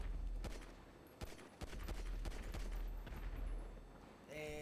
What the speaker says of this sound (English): Your tank gun's pretty alright.